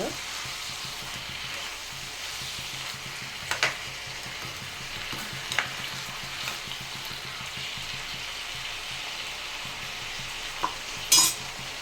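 Tomatoes frying in a pan for a tomato gojju, a soft continuous sizzle with a few sharp utensil clinks and taps, close by and without talk.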